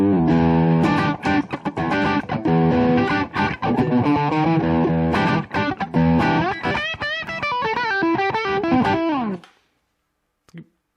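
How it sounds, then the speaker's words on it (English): Electric guitar through a Boss Super Overdrive pedal with level, tone and gain at noon into a small solid-state amp, playing mid-heavy overdriven chords and then a run of single notes before cutting to silence. "So the Super Overdrive is a mid-heavy overdrive"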